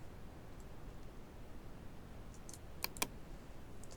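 A computer mouse clicks twice in quick succession while editing in Photoshop, sharp and faint above a soft background hiss, with a few even fainter ticks nearby and no speech.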